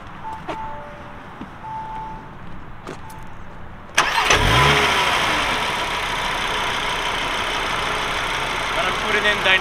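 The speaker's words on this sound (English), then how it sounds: "Let's start the car." A 2022 Audi RS3 Sedan with its 400 hp engine fires up partway through: a sharp crank and burst of revs, then settling into a loud, steady idle after a quieter lead-in.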